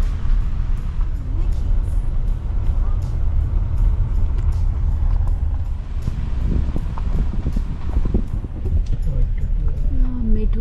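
A car rolls along a dirt road toward a campsite in Michigan, a steady low rumble of engine and tyres with wind buffeting throughout, while people talk over it.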